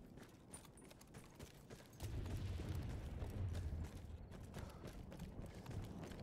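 Horse hooves clip-clop in the Battlefield 1 campaign, a steady low trotting rhythm that swells louder after a couple of seconds amid rumbling battlefield ambience.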